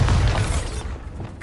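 A Bombarda blasting spell in Hogwarts Legacy bursts with a short, loud, bassy blast and shattering crunch, then fades quickly into a rumbling tail.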